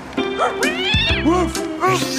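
A cartoon cat meows repeatedly in several drawn-out, pitch-bending mews, close and clear, likely voiced by a performer imitating a cat, over faint background music.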